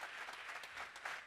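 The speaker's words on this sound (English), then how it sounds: "Big round of applause for the Mud House for putting out some coffee today." Audience applause at a live in-person debate on whether God exists, a dense steady wash of clapping from a moderately distant crowd, fairly quiet and continuous, with no voices over it.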